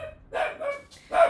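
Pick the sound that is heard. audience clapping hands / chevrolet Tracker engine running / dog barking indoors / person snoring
dog barking indoors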